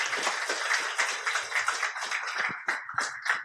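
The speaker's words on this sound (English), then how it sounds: "I give Ken a wee round of applause" Audience applause for a speaker named Ken at a robotics talk, a brief round of scattered claps that stays moderately loud and fairly close, with individual hand claps standing out toward the end.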